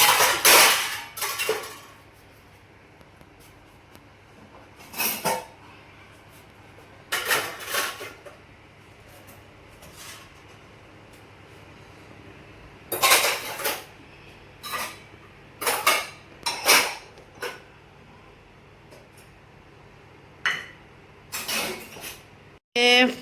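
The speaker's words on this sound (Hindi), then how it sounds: "तो मैं ये सारे बर्तन लगा देती हूँ" Kitchen pots, pans and utensils clatter and clink in a series of sharp, irregular bursts separated by quiet gaps, close by, in a home kitchen while a paneer dish is being cooked.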